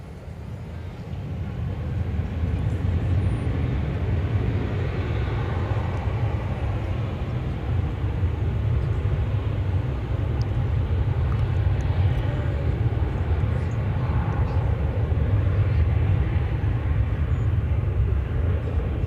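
An American Airlines Airbus A321 takes off at Dallas Fort Worth airport, a steady low engine roar that swells slightly and holds, heard from a distance with faint talk in the background.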